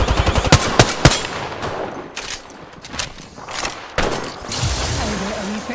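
Apex Legends gunfire rattles in rapid automatic bursts, loud and close at first, then scattered sharp shots and distant fire with quieter gaps in between.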